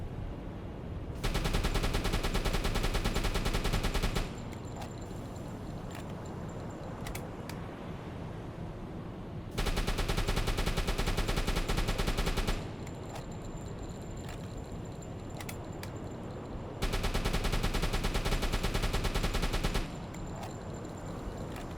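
In the UBOAT submarine game, the deck gun fires in three sustained loud bursts of rapid shots, each lasting a few seconds, separated by quieter stretches of ambient sea and engine noise.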